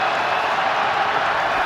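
A stadium crowd roars in a steady wash of noise at an NFL game between the Tampa Bay Buccaneers and New York Jets. The sound stays loud and constant throughout, without any breaks.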